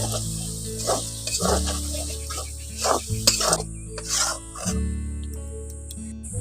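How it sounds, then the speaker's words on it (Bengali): Prawns stirred and fried in spiced oil for a prawn biryani: a spatula scrapes and clatters in the pan in irregular strokes over a low sizzle, close by, with no speech. "চিংড়ি মাছগুলো দিয়ে ভালো করে নাড়াচাড়া করে কষিয়ে নিচ্ছি"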